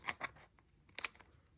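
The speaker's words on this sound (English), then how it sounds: "we can go through with the scissors and trim off any edges" Scissors trim the overhanging edges off acetate craft material, with a few quick crisp snips in two short bursts, close and fairly quiet, no talking.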